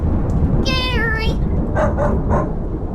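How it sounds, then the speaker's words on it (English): A dog gives a drawn-out whining yelp followed by three short barks, loud and close, over a rough, constant background noise. "Winona barked, her tail wagging."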